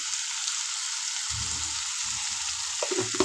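Soybean curry ingredients frying in oil in a pan, a steady soft sizzle with a few stirring scrapes and clatters, close and alone with no talk.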